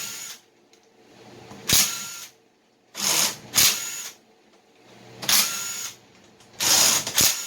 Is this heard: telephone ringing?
no